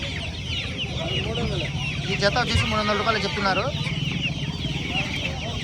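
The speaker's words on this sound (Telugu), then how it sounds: "ఇవి వచ్చేసి ఫ్యాషన్ కోళ్ళు అండి." Fancy chickens cluck and squawk in a crowded poultry market, a busy chorus of overlapping calls with one rooster-like cry rising midway, while someone talks over the din.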